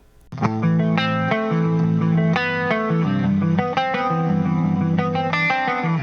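Electric guitar chords ring out loud and close, shimmering with a chorus effect from a BOSS chorus pedal and washed in reverb, each strum sustaining into the next.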